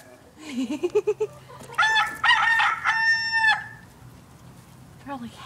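Roosters in a barn crow loudly and close by, with a few short clucks before a long drawn-out crow and another starting near the end, while people talk quietly in the background.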